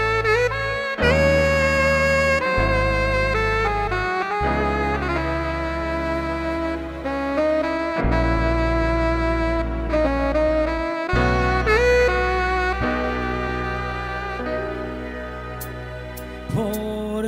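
A romantic bolero song plays as steady tuneful music with a sustained melody over bass and chords, shifting phrase by phrase for a long stretch without speech.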